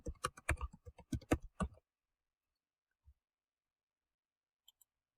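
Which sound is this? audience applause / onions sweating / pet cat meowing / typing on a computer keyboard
typing on a computer keyboard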